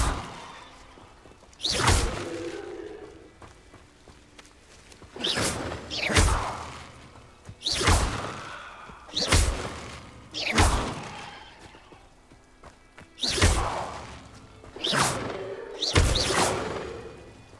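Incendio fire spell effects in Hogwarts Legacy, seven or eight whooshing bursts of flame at fairly even intervals, each swelling into a loud roar and fading, with quiet gaps between casts.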